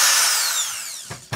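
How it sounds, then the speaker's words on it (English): A power drill with a step bit cuts a hole in a metal guitar pedal enclosure, giving a brief whine that winds down, followed by two short grinding bursts close up. "and then you use a step drill"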